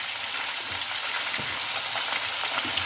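Meat browning in a pan with garlic ginger paste for chicken biryani gives a steady, close hissing sizzle with faint stirring scrapes, no voices over it.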